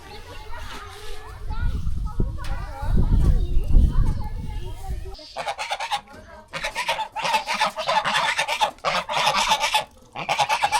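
Domestic geese in a Bangladeshi village honk repeatedly in loud, irregular bursts during a rice harvest day, with fowl clucking and voices in the background.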